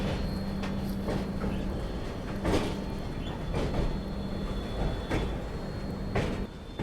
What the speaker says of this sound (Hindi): दादा हट जाओ, ट्रेन आ रही है